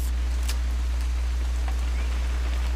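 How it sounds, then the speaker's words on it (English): Steady rain falls in the video game What Remains of Edith Finch, a loud, constant wash with a few sharper drop ticks and a strong low hum underneath. "It's gonna rain the whole weekend,"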